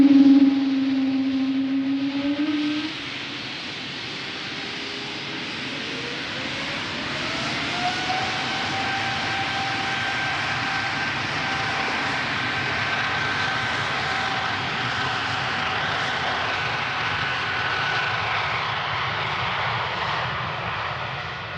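A jet airplane approaching runway 36L at Amsterdam Schiphol Airport, a steady, loud engine drone with a rising whine that holds through the whole stretch before easing slightly at the end.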